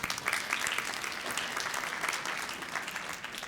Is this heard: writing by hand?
no